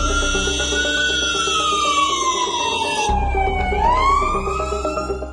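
Emergency vehicle sirens wail at the scene of a gas cylinder explosion in an apartment building, where firefighters and police have arrived; a loud, continuous rising and falling siren tone fills the scene throughout.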